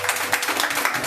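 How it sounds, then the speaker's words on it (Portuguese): A church congregation claps in praise during a worship service, a continuous, fairly loud patter of many hands throughout the short moment. "Você pode aplaudir ao Senhor."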